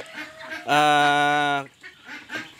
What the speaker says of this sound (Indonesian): Ini yang kecil ini bebek sudah umur 9 hari ini teman-teman, 9 hari.